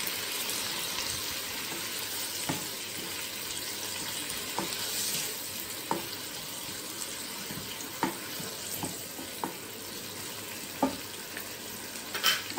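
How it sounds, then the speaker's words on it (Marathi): Water is added to steamed potatoes in a hot pan for a stuffed capsicum filling, a soft steady sizzle and hiss broken by occasional sharp spoon clicks and scrapes against the pan. "थोडंसं पाणी घालूया आपण."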